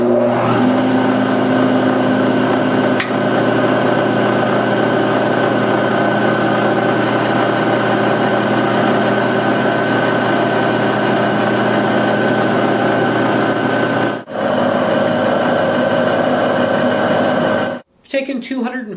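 A machine cutting a metal foot peg with light passes gives a continuous steady whine with humming motor tones for most of the stretch, dips briefly, then cuts out near the end.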